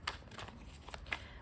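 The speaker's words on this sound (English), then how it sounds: "We're just going to shuffle a bunch of times" Tarot cards are shuffled in a quiet room: soft, quick papery riffles and flicks come in short bursts, close and faint, with no talking.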